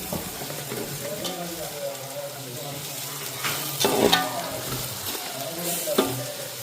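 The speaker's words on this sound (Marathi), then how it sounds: "आता हे छान पुन्हा एकदा परतून घेऊया आपण" Onions sautéing and being stirred in a pan for egg bhurji, a steady soft sizzle with scraping spoon strokes and a couple of louder clinks, close and continuous.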